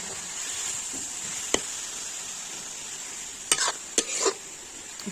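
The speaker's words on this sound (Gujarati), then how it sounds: "ઘીને ગરમ થવા દઈ છીનેલી દૂધી તેમાં ઉમેરી સારી રીતે સાંતળી લો" Grated bottle gourd sautés in hot ghee with a constant sizzling hiss, punctuated by a handful of sharp spatula scrapes and taps against the pan, near and clear.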